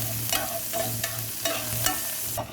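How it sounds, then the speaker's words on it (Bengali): Chopped garlic and green chillies frying in melted butter, a steady close sizzle with rhythmic spatula strokes scraping the pan about every half second. "এর সাথে আমি দিয়ে দিব একটা রসুন কুচি আর দুইটা কাঁচামরিচ কুচি দিয়ে একসাথে একটু ভেজে নেব"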